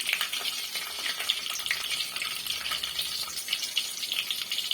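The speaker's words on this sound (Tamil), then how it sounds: "சீரகமும் வெந்தயமும் நல்லா ஃப்ரை ஆனதுக்கு அப்புறமேட்டு நம்ம கருவேப்பிலை தேவையான அளவு சேர்த்துக்கலாம்" Cumin and fenugreek fry in hot oil for a Tamil sundal puli kulambu, a soft, steady crackling sizzle with fine bright spatters, faint and close, with no talk.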